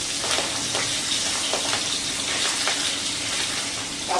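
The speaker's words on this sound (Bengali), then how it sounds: "এবার আমি একে একে পাবদা মাছটা তেলের মধ্যে ছেড়ে দেবো।" Pabda fish frying in hot oil, a loud continuous crackling sizzle with scattered sharper pops, steady throughout and without voices.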